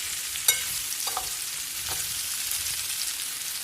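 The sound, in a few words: fish and vegetables frying and being stirred in a pan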